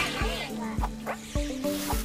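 Dogs in the Boti: Byteland Overclocked video game let out a few sharp, close barks in a quick uneven series, with a splash of water and game sounds around them.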